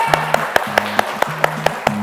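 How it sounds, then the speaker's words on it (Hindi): Audience at a client-attraction seminar giving a round of rhythmic, evenly spaced claps, sharp close beats about every quarter second over light background music. "सब लोग इनके लिए जोरदार तालियां"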